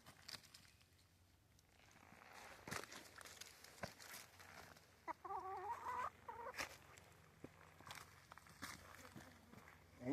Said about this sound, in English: Come on, little hen.